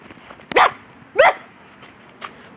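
A dog barks twice in quick succession, a short sharp bark followed by a second one a moment later, fairly close against a quiet background, then a faint third yip.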